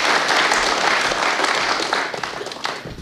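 Loud, dense applause from an audience at a Punjabi stage show and star night, a steady wash of clapping that holds for a few seconds and eases slightly near the end.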